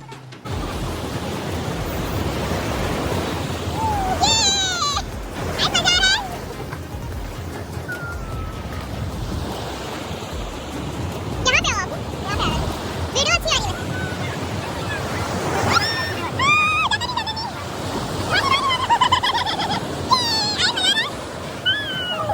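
Ocean waves wash onto a beach in Goa, a steady broadband surge with wind buffeting the microphone, while voices and children's chatter come and go over the surf.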